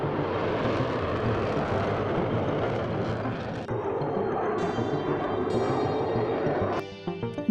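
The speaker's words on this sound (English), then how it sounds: "Fighter jet is a high-speed military or naval airplane designed to destroy enemy" Military fighter jet passing overhead, a loud continuous broadband roar of jet engine noise that holds steady for most of the stretch before cutting off abruptly near the end.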